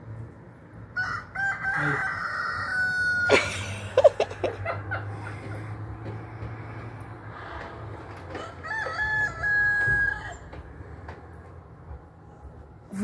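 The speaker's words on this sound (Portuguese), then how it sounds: "Com o galo cantando." A rooster crows twice from a rooftop in the early hours, fairly close, with long drawn-out calls, while a few short clucks and faint voices sit in the background.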